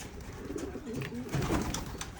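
Several young racing pigeons in a loft cooing softly and repeatedly, producing low, steady burbling calls close by under a faint background hiss.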